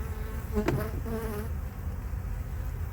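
Honeybees buzzing in a purchased package hive, a close steady hum with a brief louder buzz pass, alone without talk.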